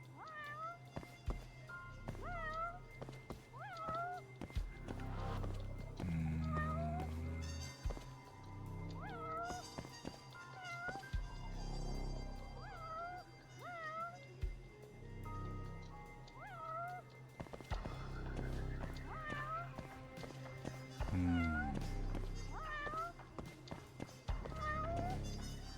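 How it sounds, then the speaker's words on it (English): Two cats meow repeatedly and overlap in the video game Judgment, their calls rising and falling over a busy game soundscape of steps and ambient music, with occasional faint speech. "I hear two cats."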